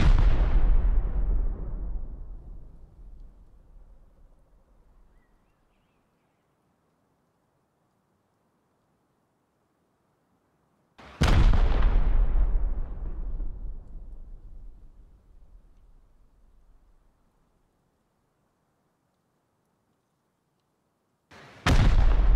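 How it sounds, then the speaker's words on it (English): Three heavy rocket blasts from a turret in a video game, each a sharp loud boom that rolls off into a long fading rumble, spaced about ten seconds apart with silence between. "hope that's it for the rockets"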